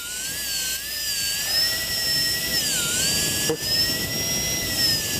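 Electric fishing reel winding in line steadily during jigging from a boat off Tongyeong, a high continuous motor whine that rises and dips slightly in pitch, close and alone with no talk.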